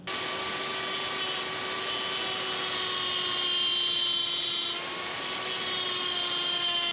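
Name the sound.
power tool cutting away motorcycle swingarm metal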